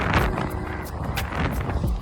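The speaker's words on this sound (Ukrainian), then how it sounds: "Вітер зараз зустрічний." Continuous roaring headwind buffeting the microphone while cycling, a broad rumbling rush with gusty swells and no talking.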